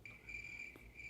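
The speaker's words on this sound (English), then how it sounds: "Crickets." Crickets chirp as a sound effect, a thin, steady high trill repeating in short pulses with a brief gap, quiet and alone with no talking.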